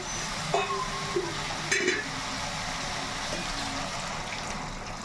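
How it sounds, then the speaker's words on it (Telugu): Water splashes into a hot pan of frying chicken and masala, the sizzle and bubbling steady throughout, with a few brief clinks of a utensil near the start. "ఇప్పుడు వాటర్ అయితే వేసేస్తున్నాం"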